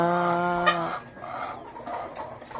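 Chickens cluck and murmur nearby, one bird giving a drawn-out harmonic call at the start before softer scattered clucks continue in a farmyard setting.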